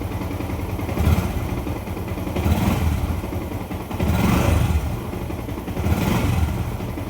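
A motorcycle engine with a fault flagged as a sniper regulator error 46 revs repeatedly in uneven surges, misfiring and rough as the revs rise and fall close by.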